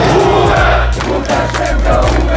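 A protest crowd shouts loudly and close by in rough bursts, many voices overlapping in a rising and falling roar.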